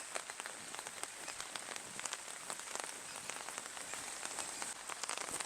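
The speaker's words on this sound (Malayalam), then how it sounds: "മഴയാണ് കേട്ടോ." Steady rain falls outdoors, a dense, even patter of drops on surfaces, fairly soft and continuous with no voices.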